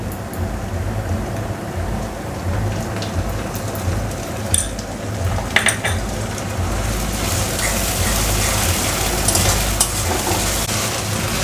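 Onion and ginger garlic paste sautéing in a pan for a rohu fish curry, a continuous close sizzle with occasional spatula scrapes and stirring clicks, growing slightly brighter toward the end.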